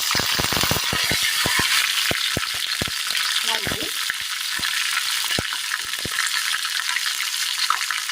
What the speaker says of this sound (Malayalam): എണ്ണ ചൂടായി വരുമ്പോൾ വറ്റൽമുളക് ഇട്ട് കൊടുക്കാം.